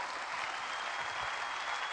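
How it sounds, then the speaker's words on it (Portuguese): Audience applause at a Portuguese comedy show in Póvoa de Varzim, a dense, even roar of many hands clapping, sustained and moderately distant, with no speech on top. "Uma salva de palmas para a MVM."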